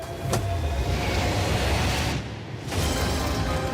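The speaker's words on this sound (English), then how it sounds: "not only is this the fastest car in the world, oh my gosh, it accelerates so fast" A futuristic high-speed car, billed as the fastest in the world, accelerating with a loud continuous roaring rush of engine and wind noise, briefly dipping before surging again.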